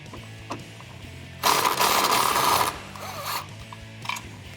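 Ratchet or power tool working on the 13 mm strut bolts of a Dodge Challenger, a short burst of loud whirring and rasping between quiet clicks and handling noises, close up.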